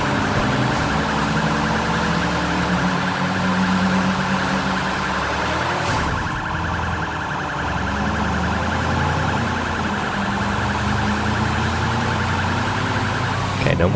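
A police siren wails in the Sleeping Dogs: Definitive Edition video game, a steady, loud electronic tone running the whole time over game engine and traffic noise, with a brief burst near the middle.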